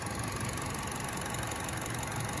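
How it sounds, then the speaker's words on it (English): Engine of a 2020 Chevrolet Sonic LT idling under the open hood, heard up close as a steady, quiet, even hum with no revving and no talk over it. "We'll let you see here the engine and just how quietly it runs."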